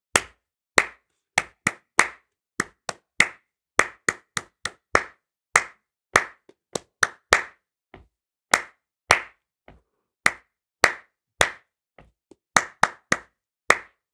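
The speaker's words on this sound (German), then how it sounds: "Okay, wir klatschen den Text gemeinsam." Hands clapping a rhythm exercise together, sharp distinct claps in an irregular notated pattern, close and clear with short pauses between groups and no talking.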